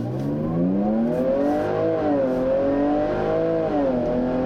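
A 2017 Jaguar F-Pace S engine and exhaust drone steadily from inside the cabin while driving, the pitch rising and falling gently as the revs shift, loud and continuous.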